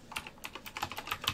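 Quick, fairly quiet typing on a Nanoxia Ncore Retro keyboard, a run of irregular crisp key clicks close to the microphone.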